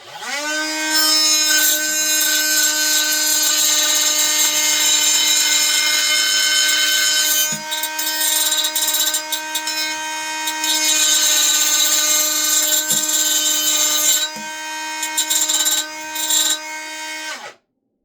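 Loud, continuous shrieking whine of a Ryobi 18-V cordless hand-held wet/dry tile saw running through tile, sustained close by with short dips in pitch where the blade bites, then cutting off at the end; no voices.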